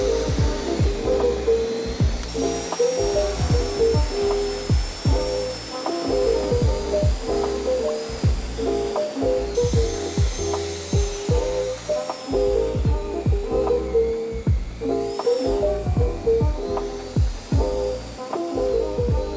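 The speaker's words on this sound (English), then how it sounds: "Any snow blower is going to have a problem getting that stuff up, but let's just see how it works." A VEVOR 20-inch electric snow blower labors through wet, slushy snow, its steady motor whine running throughout under irregular chunky thumps and knocks as the heavy slush is churned.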